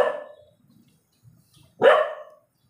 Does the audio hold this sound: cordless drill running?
no